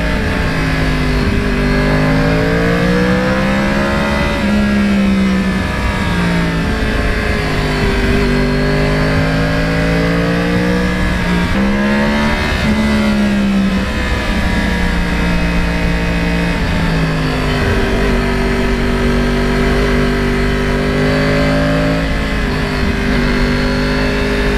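A Yamaha R1 crossplane superbike engine runs close and loud, rising and falling through several steady revving sweeps for the whole stretch with no voices.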